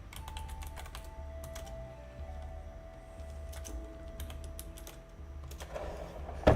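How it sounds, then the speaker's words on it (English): Computer keyboard keys clack in quick bursts of typing at a desk, faint and close with pauses between runs, over a low steady hum. "that's what that is. It's my keyboard."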